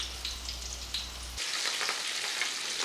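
Country fried steak frying in a pan, a constant close crackling sizzle that grows brighter and fuller partway through as the hum underneath drops out.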